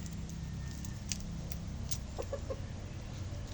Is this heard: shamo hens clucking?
yes